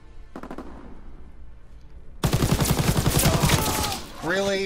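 Rapid automatic gunfire in a shooter game, with a muffled burst early on, then a loud close stream of rattling shots that ends in ringing metallic tones.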